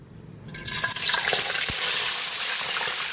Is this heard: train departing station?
no